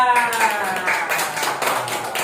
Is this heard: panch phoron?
no